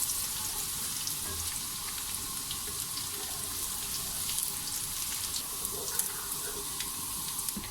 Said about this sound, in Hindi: अब हम इसमें अदरक डाल देंगे, साथ ही लहसुन भी डाल देंगे।